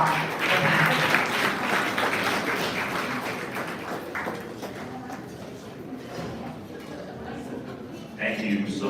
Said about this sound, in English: Can you please give him a round of applause as he starts?